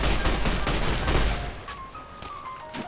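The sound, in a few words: gunshots in the video game Fallout New Vegas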